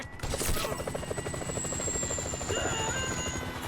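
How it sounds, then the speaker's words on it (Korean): A helicopter in GTA 5 gives a loud, continuous rotor chop with a steady rhythmic beat and a high whine, close and dominant throughout. "헬기"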